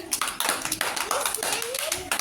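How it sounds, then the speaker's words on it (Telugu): Children in a school classroom clap their hands together in several quick bursts, close and fairly loud, while a voice talks over the clapping. "క్లాప్స్ కొట్టండి"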